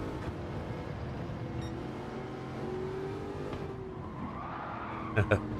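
Race car in the GT7 video game braking late and skidding: a continuous engine drone with a drawn-out tyre squeal in the middle and a couple of sharp thumps near the end, while people talk underneath.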